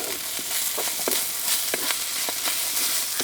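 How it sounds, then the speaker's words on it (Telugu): Ginger garlic paste fries in a pan with a constant dense sizzle, punctuated by a regular series of light stirring scrapes close at hand, with no voices. "ఇప్పుడు రెండు చెంచాలు అల్లం వెల్లుల్లి పేస్ట్ వేసుకుని పచ్చివాసన పోయే వరకు బాగా వేయించుకుందాం"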